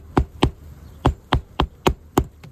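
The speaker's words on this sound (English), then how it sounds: "Same thing, in the nailing zone, clearing the hammerhead, nail again flush with the decking" A hammer drives roofing nails through asphalt shingles into wooden roof decking during a shingle repair, giving seven sharp, close taps in an uneven rhythm with short pauses between them and no talking.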